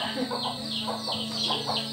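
Chickens cluck in short, soft bursts close by inside a house, over a steady low hum, with faint background voices.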